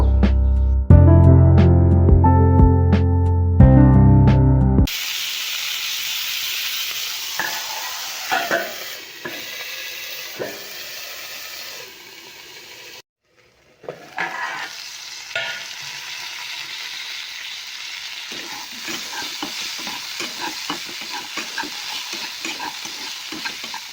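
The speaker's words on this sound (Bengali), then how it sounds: "বরবটি আলুটা আমি ভাজা করছি" Potatoes and yardlong beans fry in a pan with steady hissing sizzle and occasional stirring scrapes, following a short burst of loud music at the start and a brief gap partway through, with no voices.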